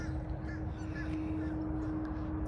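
A bird calls outdoors with a harsh, crow-like cawing against a steady hum and low background noise, faint and somewhat distant.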